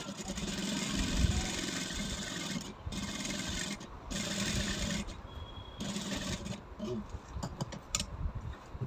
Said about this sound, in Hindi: दोनों साइड हमें ऐसे ही स्टिच लगानी है। जो भी हमने शेप ड्रॉ की है उसी के ऊपर हमें मशीन को चलाते जाना है।